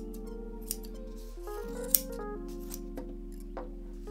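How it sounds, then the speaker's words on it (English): Squeaky scissors cut yarn close up, a few faint snips over a steady low hum, with one sharper click midway. "Excuse my squeaky scissors."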